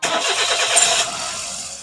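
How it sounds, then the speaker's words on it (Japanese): A Suzuki Wagon R with about 190,000 km, just fitted with a new tappet cover gasket after an oil leak, cranks and starts, its engine catching quickly and settling into a steady idle close by. "これでエンジンをかけてエンジンを温めて"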